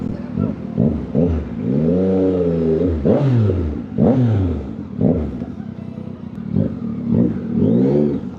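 Motorcycle engines rev loudly and repeatedly nearby at a festival in Calasiao, Pangasinan, with rising and falling pitch on each throttle burst.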